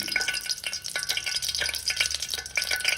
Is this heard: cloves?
yes